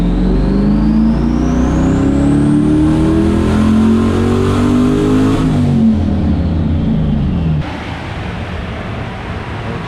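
A turbocharged LS-swapped Lexus IS300 revs hard under boost, its loud engine note climbing steadily with a rising turbo whine, then dropping off abruptly as the throttle closes.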